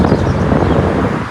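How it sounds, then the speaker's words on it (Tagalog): Gusty wind buffets the microphone in a low, rumbling roar near trees, steady and close for a brief moment. "ito mahangin na siya kasi may puno kaya mahangin siya dito banda."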